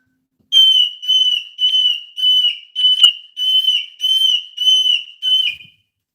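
A pet bird whistles loudly and up close in a run of about nine short, evenly spaced high notes. Nothing else is heard behind the whistling.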